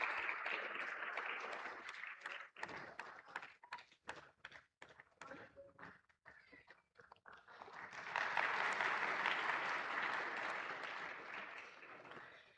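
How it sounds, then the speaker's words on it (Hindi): Crowd applause for a winning railway zone at an award shield ceremony, starting loud and dense, breaking into scattered individual claps midway, then swelling back into full sustained clapping. "जोरदार तालियां विजेता रेलवे के लिए।"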